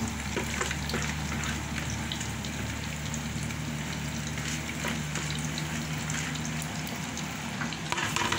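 Saltfish frying in a pan on the stove, giving a steady, dense sizzle and crackle that holds for the whole stretch, close and fairly loud, with a low hum underneath.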